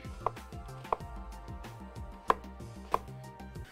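A knife rough-chopping vegetables for chicken stock on a cutting board, a run of steady rhythmic thuds with several sharper knocks, close and clear with no talk.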